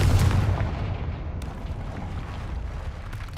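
A Confringo explosive spell from the video game Hogwarts Legacy bursts in a deep, rumbling boom that rolls away into a long, fading blast tail, with no voices over it.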